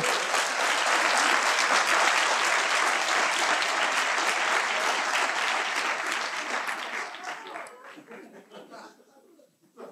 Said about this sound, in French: ben on peut l'applaudir